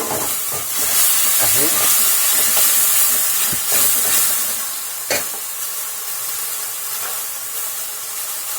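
Food being stirred in a pot over a steady hiss and sizzle of frying, a dense continuous sound with occasional scrapes and knocks, and a brief word spoken under it.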